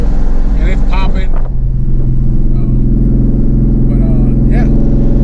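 A twin-turbo V6 car with newly installed exhaust and downpipes rumbles loud and close, a deep steady drone broken by a couple of sharp exhaust pops, with a faint voice under the engine.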